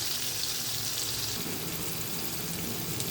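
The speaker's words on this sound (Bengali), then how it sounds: "পেঁয়াজগুলো আমি একটু ভেজে নিব" Chopped onions sizzle in oil in a wok after fish has been fried in it, producing a dense, even, watery crackle that holds steady and close without a break or any speech.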